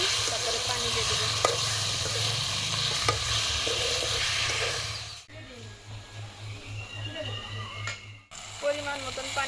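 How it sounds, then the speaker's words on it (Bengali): Pabda river fish stirred into fried onions in a pan: steady loud sizzling with scraping stir strokes and a low hum, thinning out briefly midway before the frying hiss picks back up. "নাড়াচাড়া দিয়ে দেই, তারপরে পানি দিয়ে দেব।"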